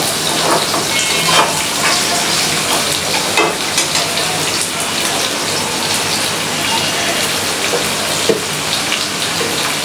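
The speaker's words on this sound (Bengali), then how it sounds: "তো এর জন্য আমি পেঁয়াজের সাথে আলুটা দিয়ে দিলাম, যেন ভাজা হয়" Potatoes and onions fry in a pan with a loud, steady, dense sizzle that crackles continuously from start to finish.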